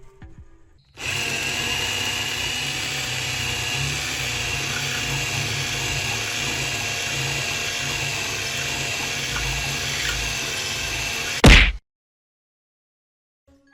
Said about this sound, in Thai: สว่ามันไม่ค่อยมีแรงนะผมก็เลยเจาะไปหยุดไปนะครับ